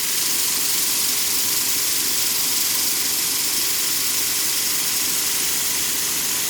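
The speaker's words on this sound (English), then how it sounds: "the fastest way to fix it is just let the grinder make it all concentric as it's going" A grinder runs with a steady, even hiss and whir, truing and tapering a sewing awl handle, with no breaks or changes in pitch.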